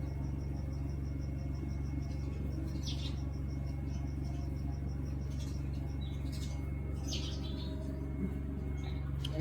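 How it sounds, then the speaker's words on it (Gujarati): Sparrows arriving for their morning food give faint, quick chirps in short repeating bursts. They sit over a constant low background hum, with no talk. "અને જો ચકલિયું પણ જો નાસ્તો કરવા માટે પહોંચી ગયું છે."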